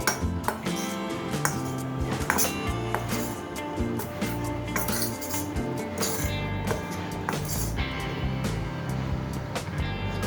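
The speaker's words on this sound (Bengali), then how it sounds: "এবার চামচের সাহায্যে হালকাভাবে একবার নাড়াচাড়া করে নেব যাতে এর উপরে একটা কোটিং পড়ে" Metal spoon stirring corn kernels coated in cornflour inside a bowl, giving a steady scraping clatter with small clinks, fairly quiet and continuous with a faint hum under it.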